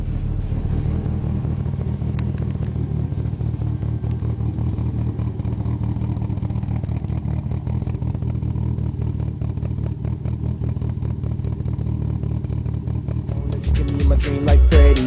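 A DSM car engine runs steadily with a low, rumbling idle throughout, growing louder and rougher near the end as it revs briefly.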